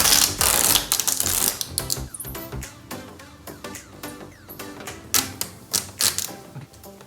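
Blue multi-surface tape being dragged along cupboard gaps and torn by hand, producing close, sharp crackling rips and clicky ratcheting bursts with short pauses between pulls.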